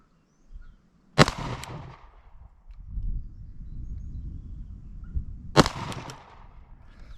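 Two sharp, loud gunshots crack at a shooting range several seconds apart, each followed by a brief echo, with low outdoor rumble filling the gaps and no voices.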